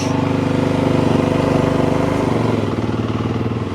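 A Yamaha YZ450F dirt bike engine idles close by, a loud, steady, fast-pulsing thump that runs the whole time with no talking.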